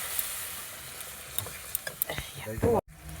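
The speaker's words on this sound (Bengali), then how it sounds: "এবার মশলার বাটি ধোয়া জলটা দিয়ে দেবো।" Rinse water from a spice bowl is poured into frying masala for a fig (dumur) dish, giving a soft sizzle and stirring that swells into a brief, loud hiss before cutting off.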